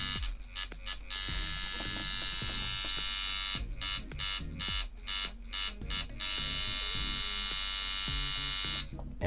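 A coil shader tattoo machine running, a loud steady electric buzz that cuts in and out in short bursts and longer stretches as it is switched and tuned.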